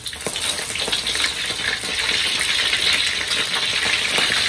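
Food sizzles and crackles steadily in a frying pan, a dense continuous hiss with scattered pops, close and fairly loud throughout with no talking.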